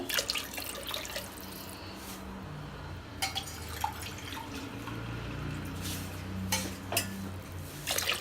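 Water splashes and trickles into a metal pot, with occasional clinks and drips over a steady background hum.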